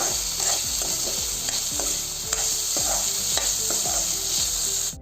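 Paneer curry with salt and spices being stirred in a pan, a loud, steady hiss of sizzling with repeated rhythmic scraping strokes from a spoon against the metal, close and continuous throughout.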